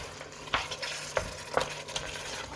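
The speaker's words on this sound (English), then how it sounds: "We can now get in our paste as well at the same time. Let's give that a good mix now." A spoon stirs pureed tomatoes and vindaloo paste in a pot of goat vindaloo, making irregular close scrapes and knocks over a continuous low sizzle.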